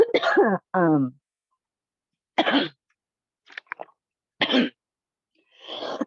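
A person coughs and clears their throat after tea goes down the wrong way, with several sharp, close bursts separated by short silences.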